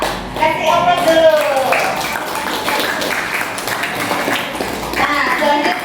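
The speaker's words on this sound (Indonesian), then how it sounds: "Kasih aplaus dulu" Students clapping together in a classroom, a sustained burst of applause with light taps, mixed with children's chatter and an adult voice throughout.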